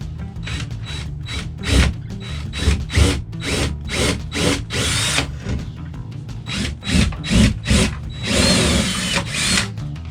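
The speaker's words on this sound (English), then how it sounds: "So you've drilled your holes." A power drill whirs in a series of short bursts, drilling holes into a wall for wall anchors with gritty grinding, some bursts longer than others.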